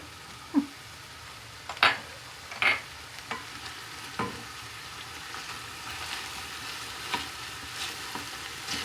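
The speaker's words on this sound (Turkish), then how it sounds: "salçasını kızartacağız" Low, steady sizzling of tomato paste frying in a pan with chicken for an okra stew, broken by occasional scraping clinks of a spoon stirring.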